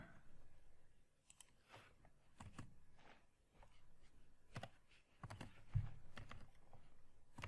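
JavaScript code being typed on a computer keyboard: quiet, close key clicks in irregular bursts with short pauses between words, a few louder taps, no talking.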